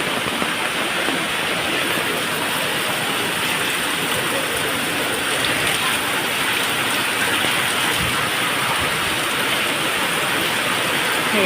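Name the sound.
rain falling on waterlogged road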